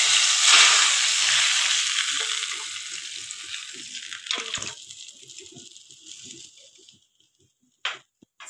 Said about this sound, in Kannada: ಈಗ ಆನ್ ಮಾಡಿದ್ದೀನಿ, ರಸಂ ಇಟ್ಟು ಒಗ್ಗರಣೆ ಹಾಕ್ತೀನಿ